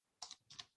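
A few quick keystrokes typed on a computer keyboard, two short clusters of crisp clicks, faint and close, with no talk.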